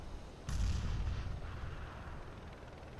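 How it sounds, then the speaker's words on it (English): A grenade blast in the Counter-Strike video game, a single low booming burst that rumbles and fades over a few seconds, moderately loud with no talk. "I'm throwing a grenade."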